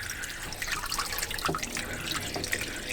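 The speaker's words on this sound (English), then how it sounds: "water's coming in." Water leaks through the packing into a sinking boat, making a steady close-up trickling and splashing that runs without break.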